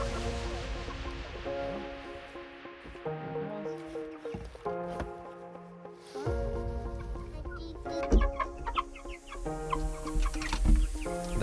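Hens clucking and squawking as they emerge from a coop on an Alaskan farm, several birds calling in overlapping bursts nearby, growing busier and louder toward the end.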